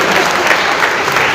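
Many hands in a school crowd clap together at Kala Niketan International School's 24th Foundation Day in Ghazipur, giving a thick, steady, loud burst of applause heard up close.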